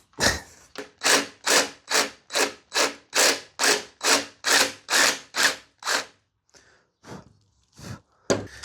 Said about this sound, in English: So now I'm very gently filing the holes out to the perfect size for the rib nut.